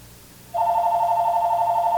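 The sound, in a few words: landline telephone ringing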